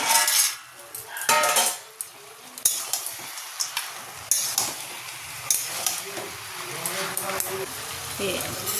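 Fried lentil dumplings are stirred into tender greens cooking in a pan, with a metal spoon clinking and scraping against the pan over a soft sizzle in an uneven, busy rhythm.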